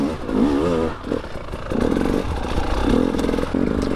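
A KTM EXC 300 dirt bike engine revs up and down through several rising and falling pulls, loud and close, with clattery mechanical noise and no one speaking.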